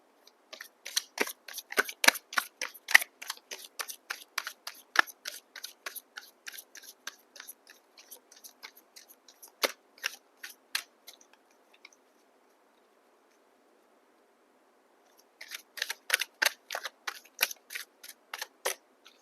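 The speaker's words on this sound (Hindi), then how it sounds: "थोड़े से कार्ड्स में और टैरो डेक से भी निकाल लेती हूँ" Tarot cards drawn and shuffled from a deck, a rapid series of crisp slapping and flicking taps, close and fairly quiet, broken by a pause of a few seconds before another quick burst.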